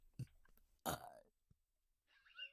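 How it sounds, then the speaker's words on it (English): A person burps on demand, one short, close belch after a brief throat noise, followed by faint, quiet talk. "Can't burp on demand. I think I can. We'll try it."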